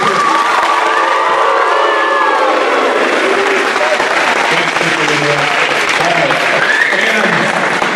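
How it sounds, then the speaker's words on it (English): An audience at a middle school awards ceremony bursts into sustained, dense applause, with cheers and children's whoops mixed in, loud and continuous throughout. "let's give a round of applause"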